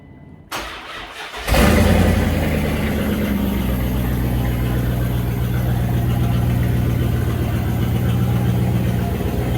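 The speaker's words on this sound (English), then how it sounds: "Let me fire this Durango cart up." A Dodge Durango engine cranks briefly, catches with a roar, then settles into a steady, loud idle that continues to the end.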